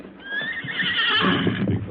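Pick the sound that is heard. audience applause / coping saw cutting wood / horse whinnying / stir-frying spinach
horse whinnying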